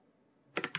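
A short burst of three quick, crisp keystrokes on a computer keyboard comes at the end, after near silence, as a command is typed on a Raspberry Pi setup.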